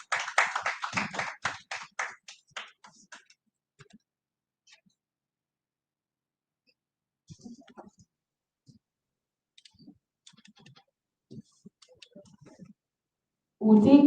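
A short burst of audience clapping at an agricultural biotechnology workshop for senior editors, welcoming a speaker to the podium. It is close and lively at first, then thins to a few scattered claps and near silence, ending in a sudden voice.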